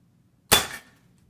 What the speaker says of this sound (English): We'll fire the gun.